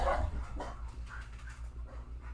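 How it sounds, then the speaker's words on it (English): A loose dog running around outdoors barks a few times at a distance, faint and muffled under a low steady background hum. "I know somebody's dog is out there loose running around."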